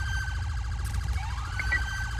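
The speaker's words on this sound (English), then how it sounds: "Alright, kill the sirens," Police car sirens in a video game wailing and yelping in rapid, overlapping cycles, loud and close with no voices over them.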